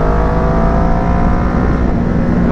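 A 2012 Kawasaki ER6N motorcycle held at full throttle on a road ride, its engine roaring loud and steady with a constant whirring drone and wind rush close by, no talk.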